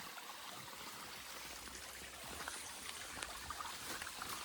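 Water runs downhill in a forest stream, a soft, continuous rushing and trickling at a distance, faint and steady throughout with no voices.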